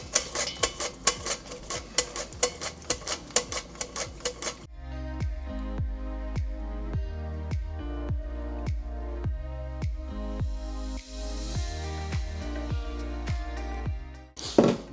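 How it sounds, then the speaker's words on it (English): Home-grown cucumbers being sliced on a mandolin for horseradish pickles, a fast run of crisp rhythmic strokes followed by steadier, evenly spaced slicing clicks over a low hum, close and loud. "I'm gonna use the mandolin, that way they stay uniformed. So all I'm gonna do is start slicing them down."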